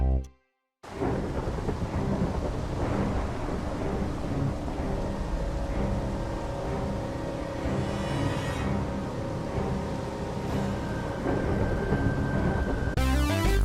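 A steady roar of heavy rain and rolling thunder from a Minecraft thunderstorm fills the scene, continuous and loud, with a brief silent gap near the start.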